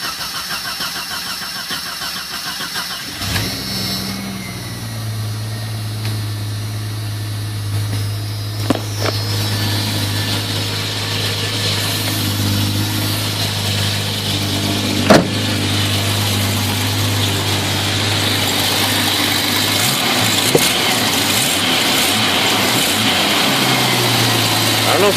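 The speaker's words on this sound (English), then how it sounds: "This is the first startup." A Jeep engine cranks and catches after new parts are fitted, then settles into a steady, loud idle that continues throughout, with a few faint knocks over the running engine.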